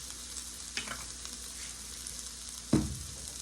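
Vegetables sauté in a hot pan with a steady, close sizzle, and two brief scrapes or stirring knocks stand out, one early and a louder one near the end.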